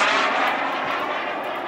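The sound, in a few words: Aerofoam L-39 Albatross RC jet flying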